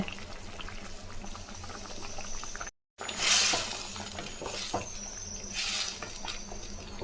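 Dried fish gravy (karuvadu thokku) simmers in a pan with a steady bubbling, sputtering sizzle, broken by a brief gap and a louder burst of spitting before settling back to a constant close-up simmer.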